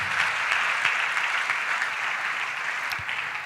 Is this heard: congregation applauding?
yes